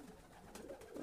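A Hana pouter, a large fancy pigeon, gives a soft, low coo that is faint and brief.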